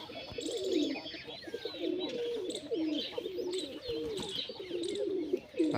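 Pigeons cooing steadily at a loft, repeated low throaty coos close by with faint bird chirps behind, no talking.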